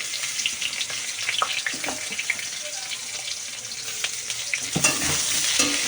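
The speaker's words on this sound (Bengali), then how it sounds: "পেঁয়াজটা একটু ভাজা ভাজা করে নিই" Steady close sizzling of onions frying in a pan, with occasional stirring scrapes and crackles throughout.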